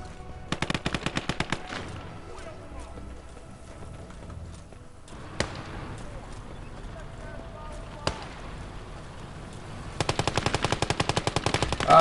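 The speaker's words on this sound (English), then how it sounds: "Ah, there's a machine gun that way." Machine gun fire in the Call to Arms: Gates of Hell Winter War game, in rapid bursts at the start and the end. A few single sharp shots fall in between, heard at moderate distance against battlefield ambience.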